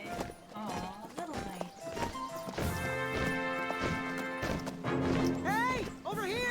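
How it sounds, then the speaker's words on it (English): Horse hooves clip-clop in the video game King's Quest, a steady clatter of steps mixed with a whinny and game music, with a voice talking over parts of it. "They're horses, aren't horses, are they?"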